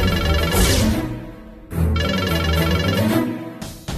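An incoming call's phone ringtone, a daughter calling her parent in a Tamil TV drama scene, plays loud and steady as a looping melodic tune, with a brief dip midway and a short break near the end.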